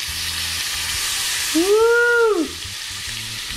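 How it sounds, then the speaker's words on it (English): Jack crevalle fish sizzles steadily in a hot pan over high heat, a constant close frying crackle, while a voice briefly whoops partway through. "Let it sizzle, let it sizzle."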